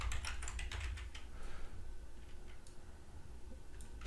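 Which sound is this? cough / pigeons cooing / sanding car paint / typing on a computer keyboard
typing on a computer keyboard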